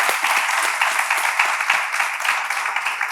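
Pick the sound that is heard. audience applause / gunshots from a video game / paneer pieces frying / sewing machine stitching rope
audience applause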